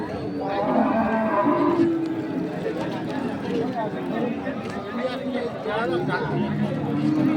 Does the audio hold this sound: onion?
no